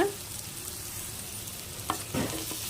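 Onions with curry leaves and a little salt sautéing in a pan for a Punjabi-style okra stir-fry. A steady, close sizzle runs throughout, with a few scraping stir strokes near the end and no talking.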